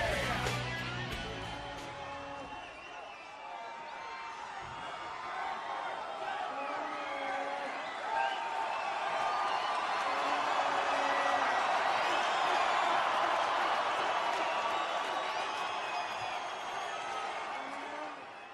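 Sold-out wrestling arena crowd roaring and cheering throughout, a dense sustained wall of voices with whoops that swells toward the middle and stays loud to the end.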